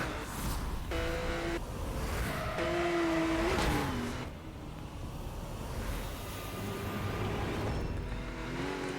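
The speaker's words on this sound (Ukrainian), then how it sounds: "Дрифтинг." Car drifting in Need for Speed: Most Wanted (2012), with a steady engine drone, rising tire squeals and shifting revs as the car slides, loud and continuous throughout.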